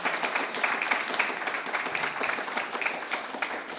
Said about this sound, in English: Can I get a round of applause for our panel?